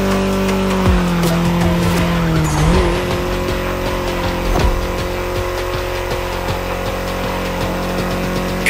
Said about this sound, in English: Back with the BMW M4 Liberty Walk Edition.